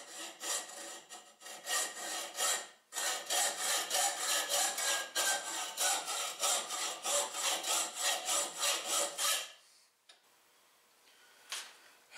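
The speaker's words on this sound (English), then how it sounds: "Now we can cut that almost complete ball off with our hacksaw" A hacksaw cuts a machined metal ball free from its bar stock with a steady, rhythmic rasp of close back-and-forth strokes. The sawing pauses once, resumes, then stops, leaving a few faint clicks.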